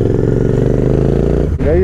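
Royal Enfield Continental GT 650 cafe racer engine running steadily close by after a cold start, a throbbing twin-cylinder idle with a brief dip, then a quick rev that rises in pitch.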